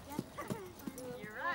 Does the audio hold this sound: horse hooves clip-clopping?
yes